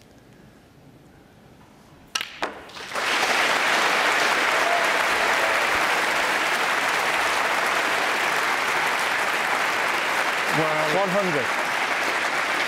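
Sustained audience applause at the snooker Masters erupts after a brief quiet and fills the hall for about ten seconds, steady and loud, with a commentator speaking briefly over it near the end.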